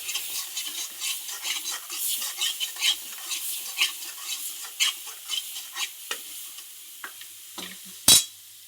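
Raw onion and coconut sizzling in oil as they are stirred, with a soft steady fry under rhythmic scraping strokes of a spoon in the pan and one sharp clank near the end.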